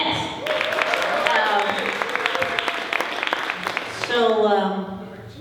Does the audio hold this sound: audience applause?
yes